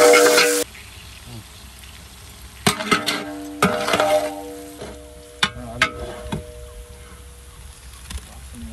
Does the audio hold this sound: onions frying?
yes